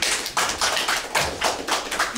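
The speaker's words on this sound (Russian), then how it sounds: "Аплодисменты." At a regional league final, the audience applauds the silver medalist with a short, fairly close round of clapping that pulses in quick surges.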